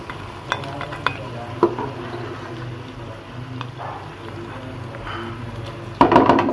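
Lahori mutton karahi scooped from the pan onto a plate with a spoon, scattered metal clinks and scrapes over a low steady hum, ending in a louder burst of rattling scrapes.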